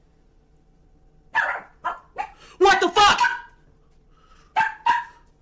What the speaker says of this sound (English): And the dog just like sits and stops barking.